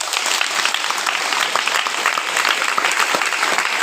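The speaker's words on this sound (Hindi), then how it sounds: "ताली बजा देंगे।" A church congregation claps in sustained, loud applause, a dense continuous patter of many hands with no talking over it.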